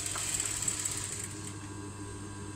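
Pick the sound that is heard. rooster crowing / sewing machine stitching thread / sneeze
sewing machine stitching thread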